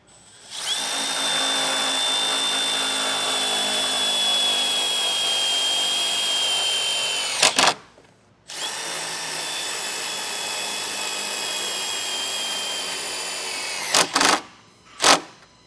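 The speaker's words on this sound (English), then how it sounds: "use the included self-tapping screws to get our circuit breakers mounted in place" Power drill driving self-tapping screws to mount circuit breakers for a Redarc Tow-Pro Elite brake controller install: two long, steady high-pitched whines of about seven and six seconds, each ending in a few quick bursts, close and loud with no talk.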